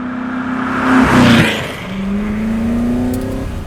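A Superformance Ford GT40 MKII heard from inside as its engine revs up, the pitch climbing in a loud swell, dropping briefly at a shift, then rising again in a sustained accelerating roar.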